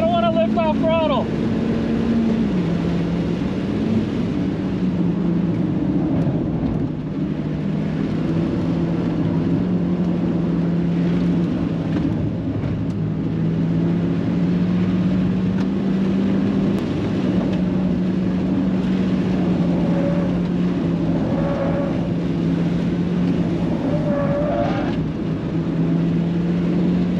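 Honda Fit engine held at full throttle around the Buttonwillow race track, a steady loud droning hum with low tonal harmonics that rise and shift slightly, continuous for the whole stretch with no pauses.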